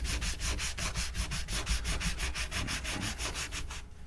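Close, steady rhythmic sanding strokes on the nut of a Glarry Tele-style electric guitar, a fast even back-and-forth rasp with no voices, stopping just before the end.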